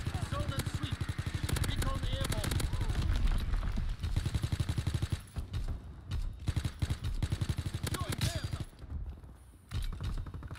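Rapid bursts of shotgun fire in Call of Duty WW2 gameplay, repeated loud blasts forming a dense rattling stream over much of the stretch, with brief gaps near the end and game sounds layered on top.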